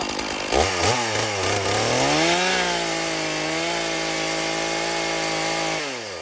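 A chainsaw revs up close and bites into a cedar log, its engine pitch climbing and dropping a few times before settling into a loud, steady cutting whine that cuts off abruptly at the end.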